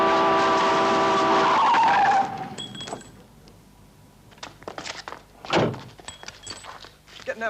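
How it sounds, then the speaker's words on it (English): A car skids with a tire squeal, followed by a heavy thunk of impact, then scattered knocks and rustles in a quieter street scene. "Saw the car run right over her."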